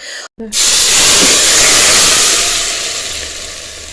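Mustard oil tadka poured over chana chaat erupts in a loud, steady sizzle right after a brief silence, holding strong for several seconds before slowly easing off.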